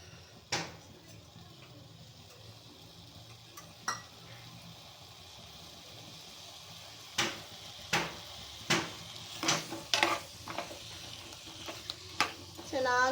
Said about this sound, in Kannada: ಎಣ್ಣೆಯಲ್ಲೇ ಚೆನ್ನಾಗಿ ಕರಿಬೇಕಿದು